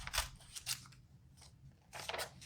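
Scissors snip through paper in quick, faint bursts, a few close crisp cuts with short pauses between them while a paper piranha puppet is cut out at a craft table.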